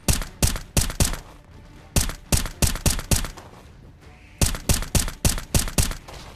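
Gunfire in the VR game Blade and Sorcery Nomad: three bursts of four to six sharp, loud shots fired in quick rhythm, with brief pauses between the volleys.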